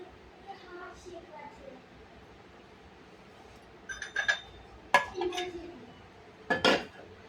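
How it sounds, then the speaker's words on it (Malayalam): A metal pan is set down on a stove with clanks and clinks of cookware, a few sharp knocks in quick succession, while someone talks over quiet kitchen background. "ഇതിൽ ചട്ടി വെച്ച് നമുക്ക് കുറച്ച് വെളിച്ചെണ്ണ വിത്താം"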